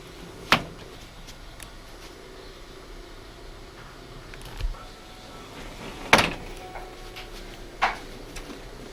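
A car door shuts with a sharp thud, one of several scattered bumps and knocks against a steady background hiss on an old VHS home recording.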